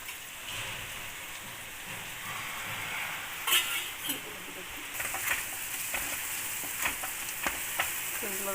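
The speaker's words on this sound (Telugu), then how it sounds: "ఇందులో వేసుకుని ఫ్రై చేసుకున్నాం" Chopped egg pieces frying in a pan for street-style egg fried rice, a constant hissing sizzle with intermittent louder metallic clanks and scrapes of stirring.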